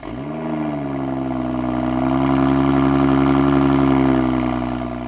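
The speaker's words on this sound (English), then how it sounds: "So as far as how loud the exhaust is, on cold start it's a little bit loud." A car engine with a catless downpipe and no tune cold-starts and settles into a loud, steady droning idle with a raspy exhaust tone that holds throughout.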